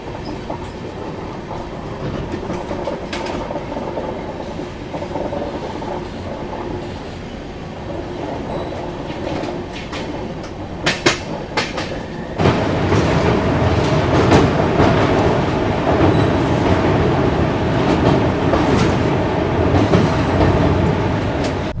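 Brahmaputra Mail passenger train running on the rails, a loud steady rumble with clickety-clack wheel rhythm that jumps louder partway through, with brief squeals and no talk.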